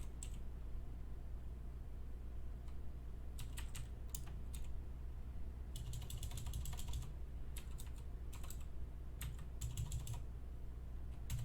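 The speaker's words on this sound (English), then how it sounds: "I wish I could type." Bursts of computer keyboard typing, close and moderately quiet, with short clusters of key clicks separated by pauses over a steady low background hum and no speech.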